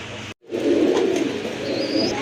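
Snow-white Indian Bombay pigeons in a loft coo steadily nearby after a brief dropout, a continuous soft murmur carrying on to the end.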